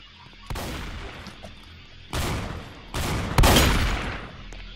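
Gunshots ring out in the Roblox shooter game Strucid, with three or four loud, sharp blasts spaced about a second apart, each trailing off into a booming decay, and no talking.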